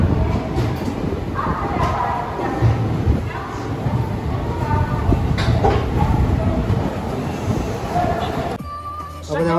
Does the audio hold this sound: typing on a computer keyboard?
no